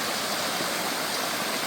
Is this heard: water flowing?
yes